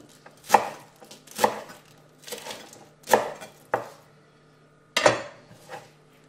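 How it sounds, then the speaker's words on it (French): A knife coarsely chopping a bunch of fresh coriander on a board: six or so distinct, close thuds in an uneven rhythm with short pauses between, no voices. "Pareil, on coupe grossièrement"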